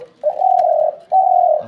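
Two soft, drawn-out cooing notes from a dove, close by, with a brief pause between them.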